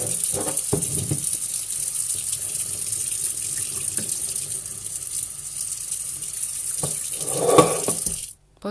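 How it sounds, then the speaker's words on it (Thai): Water pours out steadily as it is drained from a pot of boiled beans, a continuous gushing splash that runs for several seconds and then cuts off abruptly near the end, with no voices. "ต้มไม่สุกแล้วก็เอาไปเทน้ำออก"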